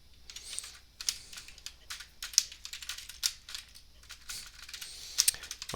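Fingers type on a computer keyboard while coding, irregular bursts of close, crisp key clicks with brief pauses between runs, no speech.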